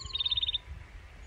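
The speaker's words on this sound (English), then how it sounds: "Morning comes with birdsong" Birds chirp on a mountain trail in Arizona at morning, a quick run of about eight bright, evenly spaced tweets over half a second, then quiet outdoor ambience with a faint low rumble.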